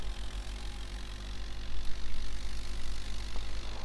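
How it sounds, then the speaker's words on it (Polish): A tractor engine from the farming video game Farming Simulator 2011 drones in a low, steady idle-like hum at moderate volume, with slight fluctuations and no speech. "cały czas ta, ten dźwięk traktora"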